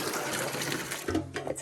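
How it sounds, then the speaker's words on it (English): Dirty water drains from a kitchen sink with a steady rushing, gurgling wash that thins and sputters toward the end, close and fairly loud, with no talk. "Let's get rid of the dirty water."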